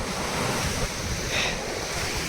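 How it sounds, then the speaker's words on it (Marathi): Big ocean waves surge and roar at Poovar beach in Kerala, a loud continuous wash of surf mixed with wind buffeting the microphone. "देखिए कैसे बड़े बड़े लाटा है ये है यहाँ तक आते"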